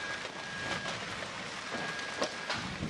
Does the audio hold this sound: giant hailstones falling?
yes